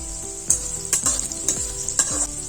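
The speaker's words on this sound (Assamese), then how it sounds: "লেচৰাখিনিও ফ্ৰাই কৰি আছো" Sizzling oil in a pan as ingredients for vegetable pulao fry, with a steady hiss broken by regular scraping strokes of a stirring spoon about every half second and no voices.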